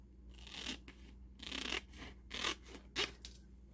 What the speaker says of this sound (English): Now this one I'm going to cut right across there.